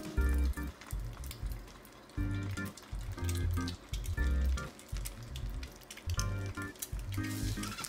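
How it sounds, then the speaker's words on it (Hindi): Boiled eggs coated in batter frying in hot oil in an egg curry preparation, a soft steady sizzle broken by recurring low bubbling bursts, fairly quiet and with no talking over it. "इसे थोड़ा जेंटली करना है और उसे फ्राई करना है।"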